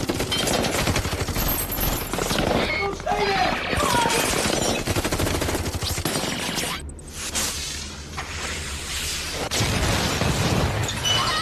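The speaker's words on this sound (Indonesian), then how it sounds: "Serangan tidak berhenti di situ, peluru membombardir rumah Frank." A film scene in which sustained gunfire rains on Frank's house: dense, loud bursts of automatic fire with shattering impacts, a brief lull, then more heavy rattling that runs throughout.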